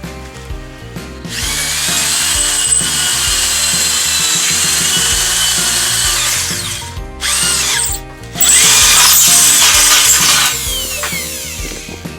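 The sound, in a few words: power drill drilling through galvanized greenhouse frame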